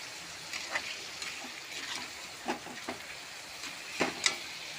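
Spices and onions frying for a Bengali chicken curry give off a faint, steady sizzle, with a few soft stirring scrapes and clinks close by and no talking.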